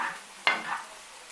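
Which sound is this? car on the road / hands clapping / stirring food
stirring food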